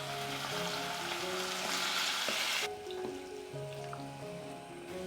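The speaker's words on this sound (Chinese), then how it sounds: "再加入猪肠翻炒。 稍稍炒一下" Pork intestines sizzle and crackle as they are stir-fried in a hot pan with pickled mustard greens ingredients nearby, a busy close frying hiss that drops sharply partway through to a quieter, sputtering simmer.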